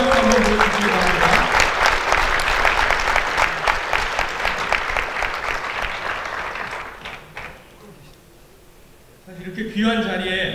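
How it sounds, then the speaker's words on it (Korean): A conference audience claps for about seven seconds, dense and loud, then thins out and dies away before a voice begins speaking. "박수 한번 보여주시기 바랍니다"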